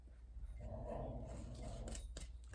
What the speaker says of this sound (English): Sorry if you hear the dogs playing still.